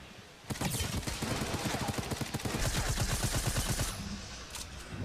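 Automatic gunfire in the video game Fortnite during a pro tournament match: a fast, even string of shots for several seconds, fairly quiet in the mix, tailing off at the end.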